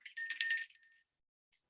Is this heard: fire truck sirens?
no